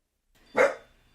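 A single sharp bark from a female pet dog, close and fairly loud, rising out of silence and quickly fading.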